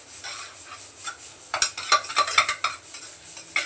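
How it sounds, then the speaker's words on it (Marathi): A spoon stirs and sautés chole masala in a pressure cooker, giving scraping, clinking strokes against the metal pot over a soft sizzle; the strokes grow louder and more frequent in the second half. "मस्त असं परतून घेते, मसाला काढते तोपर्यंत"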